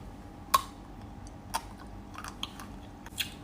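A hard white-chocolate shell on a cream cheese cake is bitten into, giving a few sharp, isolated crunches spaced about a second apart, close and quiet, with no talking.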